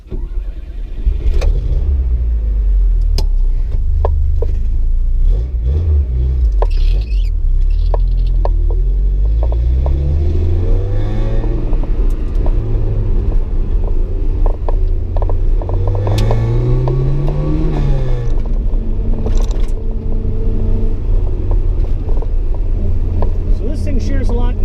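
A throaty modified exhaust on a Lada 2104 wagon rumbles from inside the cabin, revving up and down and droning steadily as the car drives, while people talk over it.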